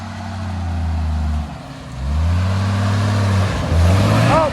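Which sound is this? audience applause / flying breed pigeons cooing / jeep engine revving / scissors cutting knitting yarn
jeep engine revving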